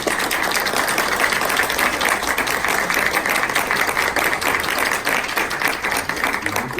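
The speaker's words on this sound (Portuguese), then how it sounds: "meu querido amigo Paulo César, a quem estou pedindo uma salva de palmas." An audience at a spiritist medicine lecture gives a round of applause, steady, dense clapping that holds evenly for several seconds without a break.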